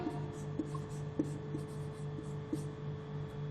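A pen writes notes in Hindi during a Class 10 biology lesson, producing faint scratchy strokes and small taps in an irregular rhythm over a steady low room hum.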